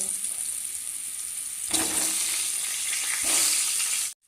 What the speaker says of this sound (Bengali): এবার আমি সেদ্ধ করে রাখা আলুগুলোকেও একইভাবে হালকা ভেজে নেব